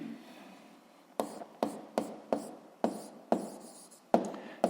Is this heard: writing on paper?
yes